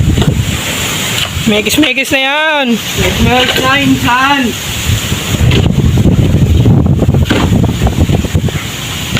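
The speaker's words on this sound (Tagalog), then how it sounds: "Ang lakas ng hangin dito mga master." Strong wind buffets the microphone in a constant roar while someone speaks briefly over it outdoors.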